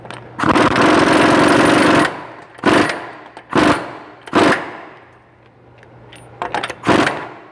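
Rapid pneumatic impact-wrench rattles run the hub nut down during a front hub and bearing replacement on a Silverado 2500HD: one long two-second burst followed by several shorter, sharp bursts with pauses between, loud and close.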